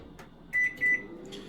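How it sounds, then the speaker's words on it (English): A microwave oven heating a portion of chicken and rice gives two short, clear electronic beeps over a faint, steady background hum. "Let's pop that in the microwave."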